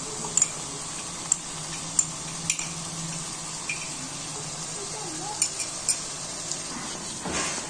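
Yogurt being stirred into fried masala in a pan while cooking macaroni qeema, with a steady low sizzle and soft scraping, plus a few light clicks of a spoon against the pan.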